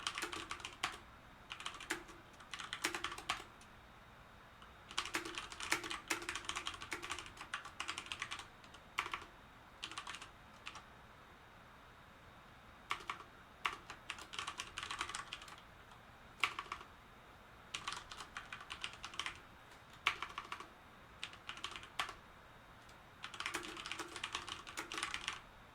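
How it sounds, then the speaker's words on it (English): Fast typing on a computer keyboard, quiet and close, with dense bursts of clicking keys separated by short pauses throughout. "Typing too fast here."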